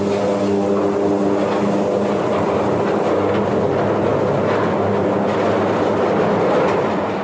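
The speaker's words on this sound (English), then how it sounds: "Several cars were overturned, the locomotive came to a halt, and the remaining cars continued to move, smashing right into the front of the train." Train cars overturning and smashing into the front of a train during a tornado: a loud, continuous heavy rumbling and grinding roar of rail cars, with no pauses.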